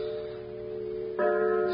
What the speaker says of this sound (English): I heard the tolling of a church bell